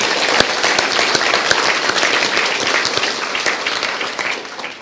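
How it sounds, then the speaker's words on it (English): A crowd at a high school prizegiving applauds steadily, many hands clapping together in a dense, even wash of sound that holds for several seconds, loud and close, with no talking. "head students deserve another round of applause"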